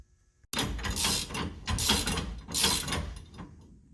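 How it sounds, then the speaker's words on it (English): A ratcheting wrench works on a truck, giving four or five loud, rasping bursts in a steady back-and-forth rhythm, close by with no talking. "Even with a ratcheting wrench,"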